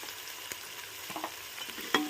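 Turmeric is stirred into chicken biryani masala in a pan, giving a brief, close, soft frying sizzle with scraping stir sounds and a sharp clink near the end.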